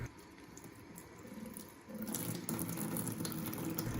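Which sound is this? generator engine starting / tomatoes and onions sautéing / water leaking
water leaking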